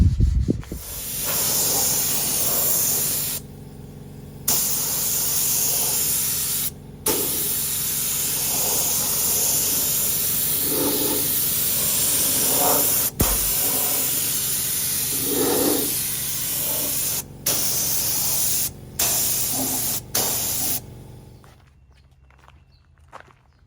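Spray paint hisses onto a Scout II off-road vehicle during a rebuild, in long continuous bursts broken by brief pauses, loud and close, with faint shuffling or handling noises between passes.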